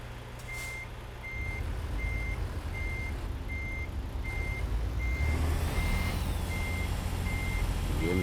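Steady, evenly spaced reversing beeps from a truck in American Truck Simulator, about a dozen regular chirps over a continuous loud diesel rumble, with a hiss partway through.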